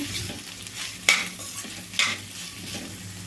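Flat beans sizzle and fry in oil with salt and turmeric, a steady close hiss broken by two sharp spatula scrapes and clinks against the pan as they are stirred.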